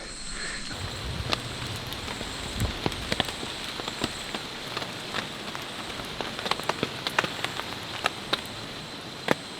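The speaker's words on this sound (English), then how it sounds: "Rain is starting to come down a little bit." Rain patters on a taut tent fly, with scattered sharper drops tapping irregularly over a steady soft hiss.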